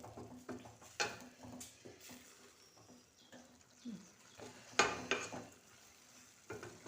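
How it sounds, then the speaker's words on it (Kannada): Mushroom palav being stirred in a pan, with scraping strokes of a utensil against the metal and a soft sizzle beneath, in irregular bursts with a few sharper clinks. "ಹಾಂ ಇವಾಗ ಕ್ಲೀನಾಗಿ ಮಿಕ್ಸ್ ಮಾಡಬೇಕು."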